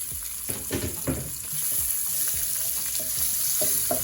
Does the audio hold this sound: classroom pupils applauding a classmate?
no